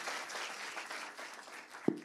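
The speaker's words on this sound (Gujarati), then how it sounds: "તાળીઓથી વધાવો ભાઈ, હિંમત કરી." An audience in a seminar hall claps together in a steady, moderately loud wash of applause that holds evenly for a couple of seconds, with no talk over it.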